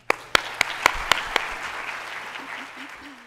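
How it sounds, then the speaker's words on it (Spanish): Audience applause at the closing of a film festival: a few loud, sharp individual claps at first, then a broad wash of sustained clapping from the crowd that gradually thins out, with a voice emerging faintly at the end. "Nos despedimos de este país,"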